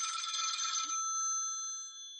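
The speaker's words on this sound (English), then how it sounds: "oh, excuse me, my phone's ringing." An old rotary telephone's bell jangles once close by, a bright metallic trill that cuts off and rings out into a fading hum in a quiet room.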